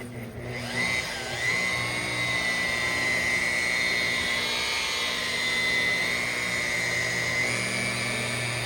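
A polisher spins at about 1500 RPM, buffing the candy blue clear coat on a 1984 Chevrolet C10 stepside. It gives a steady, close, high-pitched whine that holds throughout with slight shifts in pitch.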